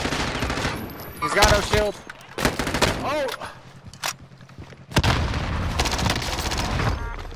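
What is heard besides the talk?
gunfire in a video game squad fight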